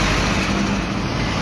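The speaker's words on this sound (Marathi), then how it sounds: "हे बघा, ही बस आहे." A bus rumbles by amid road traffic, a loud, dense, unbroken roar of engine and tyre noise filling the short stretch with no voices.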